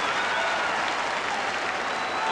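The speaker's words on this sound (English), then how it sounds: "And the Luton supporters get something to cheer about." Football supporters at a 1986 Luton versus Norwich City match cheer for a Luton corner, a steady, broad roar of crowd noise and applause holding level throughout.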